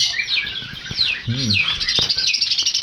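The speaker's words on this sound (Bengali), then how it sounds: "এখানে আমার বদ্রি আছে, দেখুন অ্যালবিনো বদ্রির সাথে পেয়ার নিয়ে নিয়েছে" Pet lovebirds and budgerigars, including an albino budgie, chirp and tweet in a cage, a busy overlapping chatter of bright calls heard close up.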